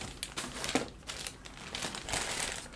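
Plastic bags from a Trumpeter model kit of a 1965 Ford Falcon Ranchero pickup crinkle faintly as the parts are handled. The rustling comes in quiet, irregular bursts with no talk.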